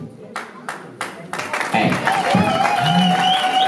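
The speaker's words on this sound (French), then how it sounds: "Sous vos applaudissements." Wedding guests applaud to welcome people onto the stage: a few separate claps first, then fuller clapping and crowd noise swelling beneath music and voices.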